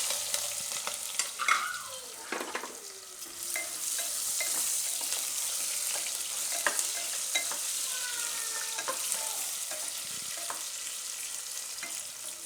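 Bananas frying in hot oil with cumin, green chillies and curry leaves, a steady close sizzle under repeated stirring scrapes of a spoon in the pan, no voices.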